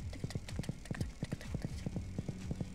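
A thumping heartbeat sound effect in the Roblox game Flashlight Tag, a fast, steady run of low pulses that resembles a galloping horse, loud and continuous without talk.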